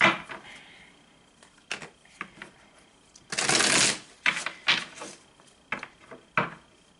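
Tarot cards are shuffled and drawn in bursts of riffling and flicking, including one longer dense shuffle mid-way, with short snaps and taps between them and no one speaking.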